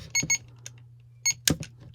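A robot cat toy in factory test mode gives short electronic beeps in a quick group, with brief clicks and quiet gaps between them.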